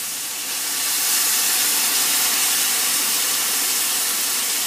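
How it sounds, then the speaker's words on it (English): Vodka poured into a hot pan to deglaze it gives a loud, close, steady hiss and sizzle that swells in the first second and then holds with no break. "this is where we're going to add the vodka to deglaze the pan"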